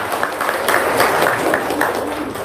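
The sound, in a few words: audience applause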